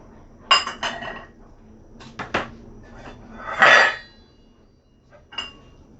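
A spoonful of sugar added to a southern Thai yellow curry with sea bass, heard as several sharp metal spoon clinks and scrapes against a pot or bowl, close and irregular, with no speech.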